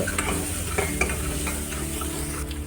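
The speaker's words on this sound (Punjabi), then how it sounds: "ਭੁੱਜਣ ਲੱਗ ਗਿਆ ਜੀ ਪਿਆਜ਼" Onions frying in a pan for a creamy pumpkin curry, giving a continuous dense sizzle with light stirring scrapes on top, close and even throughout, no speech.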